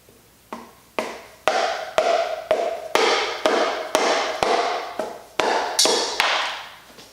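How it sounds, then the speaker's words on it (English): A rubber mallet strikes the engine cover of a 1996 Honda Accord about thirteen times in a steady, close rhythm, each sharp knock ringing briefly before the next; no one speaks. "I'm about to knock this cover off here with a mallet, see if I can get it to pop loose"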